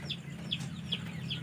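A chicken clucks four times in an even rhythm, short chirpy calls spaced about every half second over a low steady background hum.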